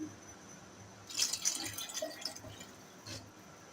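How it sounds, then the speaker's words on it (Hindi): Soaked fenugreek seed water is poured into khichdi in a pot, making a short, quiet splash followed by a few soft drips and trickles, faint and close. "मेथी दाने का पानी जिसे मैंने भिगोया था, ये मैंने अलग कर लिया था। अब ये भी मैं इसमें शामिल कर रही हूँ।"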